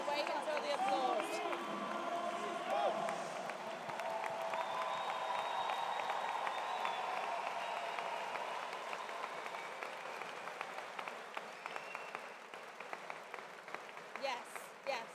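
Crowd noise at a HYROX World Championships elite race in Nice, a steady broad wash of clapping and cheering from spectators, fairly distant and sustained, with voices talking over it throughout.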